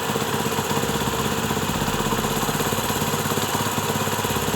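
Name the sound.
Honda CD 70 motorcycle engine running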